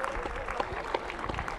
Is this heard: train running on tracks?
no